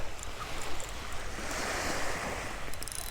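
Ocean surf washes steadily onto a beach at sunrise, a continuous broad hiss of breaking waves with some wind buffeting the microphone, close and fairly loud with no voices.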